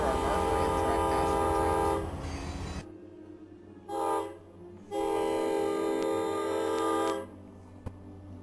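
A CSX freight train rumbles nearby in Brunswick while its horn sounds in several long blasts, separated by short gaps, loud against the steady rolling noise.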